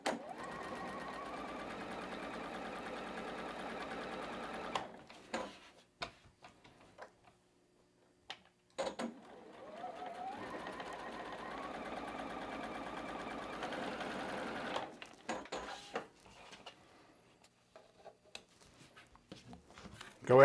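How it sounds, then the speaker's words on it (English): A sewing machine stitches fabric along a drawn line in two long, steady runs of rapid mechanical clatter, close by, with a quiet gap in between. Scattered clicks and small handling noises follow the second run. "But we are going to need to sew on the other side of that line"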